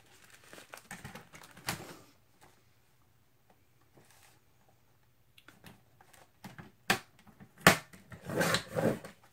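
Paper strips are cut for collaged window envelopes, with a few close crisp crinkles and snips, bursts of handling noise and quiet pauses between them.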